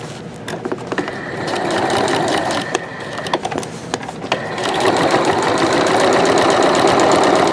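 A sewing machine fitted with a piping foot stitches piping down in a steady, loud, continuous whir that runs close to the mic, with short pauses and a louder, fuller stretch toward the end.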